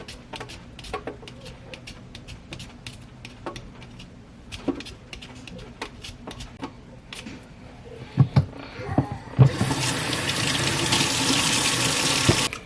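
Kitchen tap water runs over peeled potatoes being washed, starting with scattered clinks and handling noises, then a loud steady gush of running water near the end.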